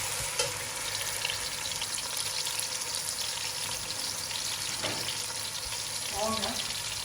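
Lemongrass and onion fry in a hot pan for a fish and torch-ginger-flower soup, making a steady, dense sizzle that runs unbroken throughout with faint kitchen clatter.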